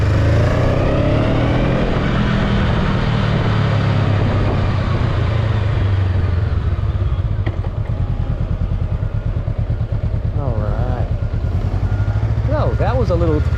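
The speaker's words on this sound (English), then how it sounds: "we're gonna give her a little second gear pull here" A Honda Rebel 500 motorcycle accelerates hard in second gear on a back road, its engine note rising loud and close with wind rush over it.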